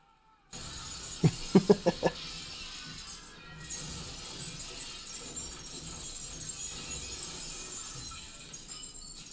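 Glass shatters in a movie stunt through a window: a sharp crash followed by a rapid cluster of loud breaking impacts, then scattered tinkling debris and rumbling film soundtrack noise continuing afterwards.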